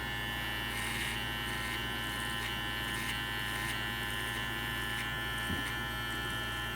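Electric hair clippers running with no guard while cutting a bald fade, a steady close buzzing hum that holds the whole time with slight shifts as the blades move through hair.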